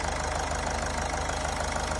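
A Toyota Etios car engine with 1.8 lakh driven idles after a carbon-cleaning treatment, giving a steady, even mechanical beat with a regular low pulse, close and continuous with no talk over it.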